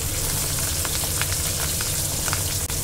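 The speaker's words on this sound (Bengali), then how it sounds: "গরম তেলে আমি প্রথমে মাছের লেজটা ছেড়ে দিলাম" A loud, dense hiss of a fish tail frying in hot oil, with continuous popping and crackling and no speech.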